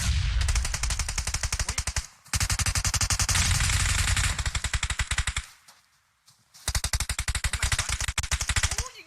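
Loud, rapid automatic gunfire in the mobile battle-royale game PUBG Mobile comes in long sustained bursts, with a brief quiet pause before another string of rapid shots.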